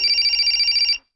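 A telephone bell rings in a steady, continuous trill for about a second, then cuts off abruptly, heard alone and close with no talk over it.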